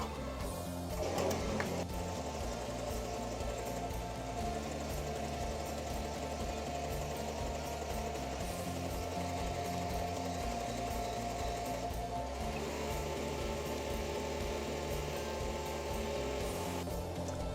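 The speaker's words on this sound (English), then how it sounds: "we're just going to press the button and we're going to let her embroider the whole snowman" An embroidery machine stitches a snowman patch on E-Zee Badge film with a steady, rapid mechanical chatter and hum, running continuously and close with small shifts in rhythm. No one talks.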